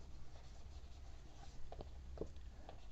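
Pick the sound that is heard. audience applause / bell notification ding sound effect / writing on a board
writing on a board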